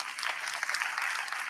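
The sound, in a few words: audience applause for the panelists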